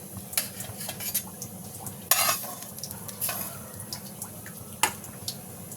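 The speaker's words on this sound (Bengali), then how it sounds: "নেড়ে চেড়ে নিলেই ওটা নারকেলের পুরটা রেডি হয়ে যাবে" Coconut filling stirred in a pan for pati shapta, with repeated scraping and clinking strokes over a soft sizzle, close and moderately loud, no voices.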